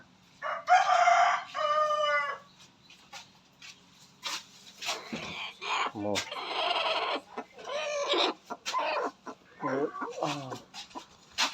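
Chickens on a rural farm near a shed where buffalo are kept, close to a brooding hen: a loud rooster crow and clucking at the start, followed by scattered clucks and other birds with people talking throughout.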